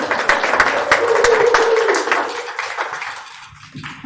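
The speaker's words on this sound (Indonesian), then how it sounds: "satu lagi tepukan kepada kita semua yang hadir pada pagi" Church congregation applauding during a Sunday morning service, a dense burst of close clapping that fades out toward the end, with a few voices mixed in.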